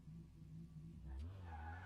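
A car pulls in within a roleplay video game, its engine and tires rising into a brief skid-like surge near the end, faint and low in level over a constant background hum.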